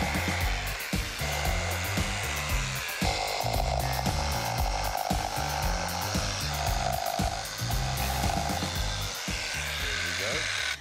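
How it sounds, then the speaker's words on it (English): Jigsaw cutting wood for a floating shelf during a DIY renovation build, a steady rattling buzz that runs for about eleven seconds with background music and some voices. "Kali, please jigsaw this part for us."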